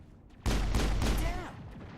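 Pistol gunfire in the video game Mass Effect 1 on Eden Prime: a loud, sudden burst of shots begins near the start and rings on for about a second before fading into a lingering tail.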